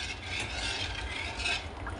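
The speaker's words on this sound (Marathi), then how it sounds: "पळीने आपण त्याच्यात हलवून घेणार आहोत." A ladle stirring semolina through boiling water in a pot, a brief close wash of bubbling and soft swishing with no voices.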